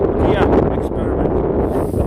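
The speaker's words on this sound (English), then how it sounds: "It's you know, very windy" Strong, constant wind buffeting the microphone on a winter hike in the Cheviot Hills, Northumberland, a loud roaring rumble that fills the whole moment with no pauses.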